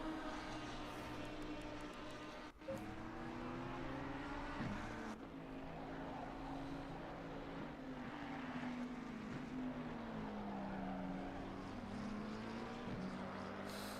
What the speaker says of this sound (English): Just listening to the car as it goes around the corner there. Sounds pretty juicy